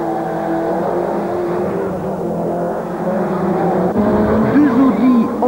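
Procar touring race cars at the 1993 Belgian Procar series, with Audis and BMWs running close together, give a sustained loud engine drone with rising and falling revs, heard under a commentator's voice.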